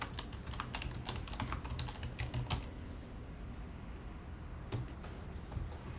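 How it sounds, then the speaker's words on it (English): Fast, light clicks of someone typing a password on a computer keyboard, an irregular burst of keystrokes followed by a pause and a few more taps, close and fairly quiet. "I can just type in my password."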